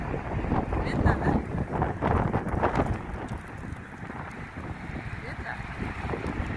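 Strong, gusty wind in Minneapolis, Minnesota buffets the microphone in loud, uneven bursts, a continuous rushing roar that rises and eases over several seconds.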